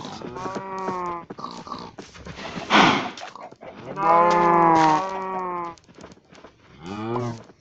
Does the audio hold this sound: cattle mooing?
yes